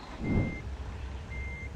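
Reversing beeps from a Volvo 9800 coach in the driving game Bus Simulator Ultimate, two steady electronic tones about a second apart over a low engine rumble, with no talking.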